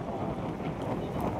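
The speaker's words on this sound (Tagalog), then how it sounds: "ramdam na po namin dito yung hangin" Strong wind blows on the coast near a rock formation as a typhoon approaches, roaring steadily and loudly straight into the microphone for the whole moment.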